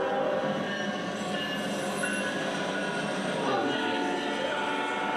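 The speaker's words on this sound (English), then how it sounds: "Now I want to show you guys an NS train I caught a couple of days ago. This is a coal run." A Norfolk Southern coal train rolls past close by, with a continuous dense rumble of rail wagons and high metallic wheel squeals laid over the clatter throughout.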